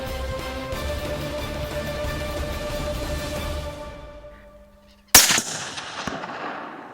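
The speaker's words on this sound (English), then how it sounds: "Doug swung the rifle 30 degrees, lined up the shoulder, and let him have it." A single loud rifle shot during a fallow buck hunt in New Zealand cracks out after a quiet moment, followed by a short rolling echo outdoors.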